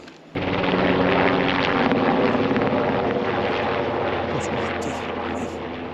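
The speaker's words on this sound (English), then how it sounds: "we've just got a helicopter just dropped behind the ridge line there" Steady loud rumble of a helicopter flying near a ridge line in the Kentmere fells, continuous and broadband, heard outdoors with wind buffeting the microphone throughout.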